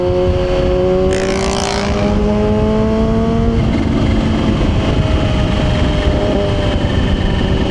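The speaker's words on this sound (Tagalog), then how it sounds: "Hindi ako magsasawang pakinggan yung upshift nito." Kawasaki ZH2 naked bike upshifting on the move, its exhaust rising in pitch, dropping at a gear change around the middle, then pulling on steadily, loud and close with heavy wind noise.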